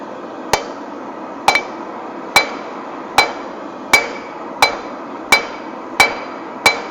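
A blacksmith hammers hot steel on an anvil while forging a leaf keychain, nine sharp ringing strikes in a steady, evenly spaced rhythm, each with a short metallic decay, close and alone.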